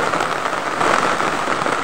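Steady rain falling outdoors, a dense even hiss of drops at constant loudness throughout, with no voices or other sounds over it.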